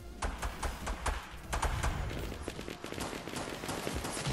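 Gunshots in Fortnite crack out in irregular bursts, several sharp reports spread across the moment, moderately loud with the firing thinning out toward the end.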